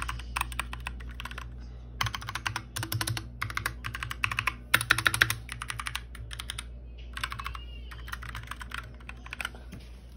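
Typing on a GMK mechanical keyboard fitted with different switches: bursts of close, crisp key clicks in quick irregular runs with short pauses between, fairly quiet overall and without talking.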